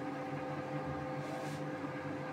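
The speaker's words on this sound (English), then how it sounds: "The noodles are in the microwave oven" A steady electrical hum from a microwave oven heating noodles, with a constant low drone and faint whirring, running continuously without pause, close by.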